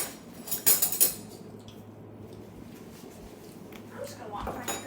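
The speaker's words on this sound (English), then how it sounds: "Get a new spoon." Spoon lifted from a cutlery drawer in a home kitchen while making pesto and pasta from scratch: a short cluster of bright metallic clinks and rattles near the start, then quieter kitchen background with faint talk.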